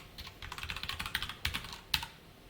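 Fingers type Java code on a computer keyboard in a quick, uneven patter of light, close key clicks, with a few harder keystrokes toward the end.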